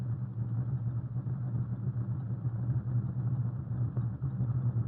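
Heavy concrete mixer trucks rumble steadily along an open-air line of oiled concrete forms, a continuous low engine drone that stays fairly distant and even throughout, with no voices.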